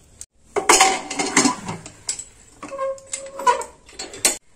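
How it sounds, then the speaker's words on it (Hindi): The metal lid of a pressure cooker goes on in a kitchen while dal makhani is prepared, a close run of clanking, scraping metal knocks and a brief ringing clink, with no talk. "कुकर की लिड लगा देंगे।"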